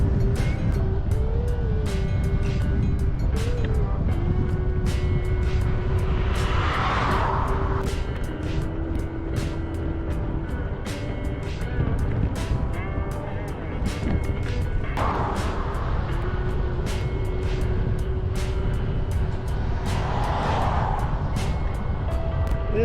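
Cars and trucks pass one after another on a busy two-lane road near Council, Idaho, with a steady traffic rumble and louder swells as vehicles go by up close.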